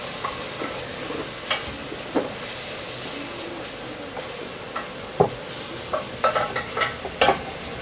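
Sauce simmers and sizzles faintly in a pan while a spoon stirs it, giving scattered soft clicks and scrapes against a low steady background, with no talking.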